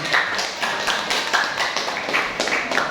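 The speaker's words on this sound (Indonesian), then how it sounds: "beri tepuk tangan" Classmates in a grade 8 classroom clap together in a lesson, a steady, fairly close patter of hand claps that keeps going for the whole stretch without a break.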